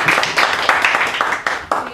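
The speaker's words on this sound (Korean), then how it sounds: "출판 기념회에 와주신 여러분들 박수로 한번 시작을 해보도록 하겠습니다." Audience applause at a Korean book launch event, a brief burst of steady hand clapping from a crowd, fairly close and loud, with a few sharper individual claps near the end.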